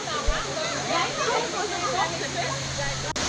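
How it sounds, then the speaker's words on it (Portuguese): A waterfall at a natural pool near a Pataxó indigenous village in Paraty, Brazil, roars as a steady broadband rush throughout, with a low hum underneath and a brief thump near the start. "E na frente lá a queda d'água."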